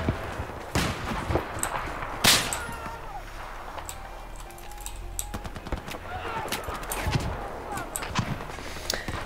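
Gunfire and bullet impacts in the video game Battlefield 4, scattered sharp shots and cracks of varying loudness through the stretch, with players talking faintly and keyboard clatter in between.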